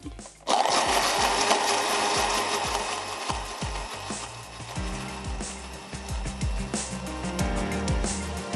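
A kitchen blender whirs as it purees yakhni stock for Thai tom yum soup, starting abruptly and running loud and steady for several seconds with rhythmic bumps and clatter, no talk.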